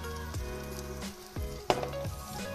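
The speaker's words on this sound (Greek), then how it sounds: "θα βάλουμε τα μανιτάρια μας. Να σοταριστούν και αυτά λίγο με το κρεμμύδι" Mushrooms and onion sauté over high heat in a pot, giving a steady close sizzle with occasional stirring scrapes and clinks.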